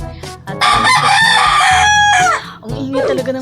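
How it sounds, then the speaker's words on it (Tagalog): Rooster giving a loud, drawn-out crow at close range, surrounded by bursts of clucking from other chickens and a short follow-up call near the end. "ang ingay talaga ng manok, guys."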